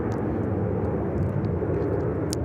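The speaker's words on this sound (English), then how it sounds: "We can only hear the aircraft, which is kind of strange." Aircraft engine noise at Sydney Airport, a steady broad roar that stays loud and constant throughout, with no voices.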